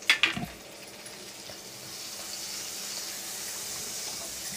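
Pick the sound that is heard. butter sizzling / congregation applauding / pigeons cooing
butter sizzling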